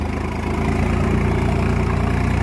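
A Swaraj tractor's diesel engine runs at a steady idle, a continuous low, rumbling throb with an even pulse, close and loud, with no talk over it.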